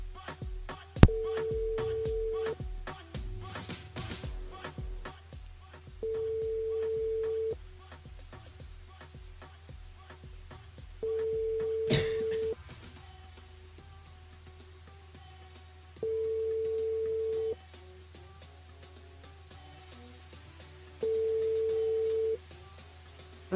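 Telephone ringback tone on an outgoing call from a French radio show: five evenly spaced steady beeps, each about a second and a half long, separated by silent gaps of several seconds, faint and alone.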